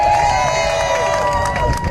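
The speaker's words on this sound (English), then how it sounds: "Round of applause for students." A crowd at a street march in Houston claps and cheers for students, a dense burst of applause mixed with voices and babble, loud and close.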